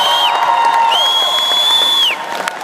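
A convention crowd at a comic con Q&A cheers loudly and continuously, with high whistles rising above the noise.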